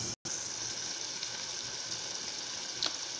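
Chicken chukka cooks in a covered pan on a slow flame, giving a soft, steady sizzle and hiss throughout, with one brief dropout near the start and a faint tick near the end.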